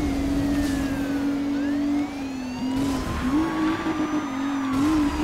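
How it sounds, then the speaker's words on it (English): A car in the racing game Need for Speed Rivals pulls a handbrake turn, its engine droning loud and steady throughout with a slight dip and waver in pitch as it slides. "That was a handbrake turn."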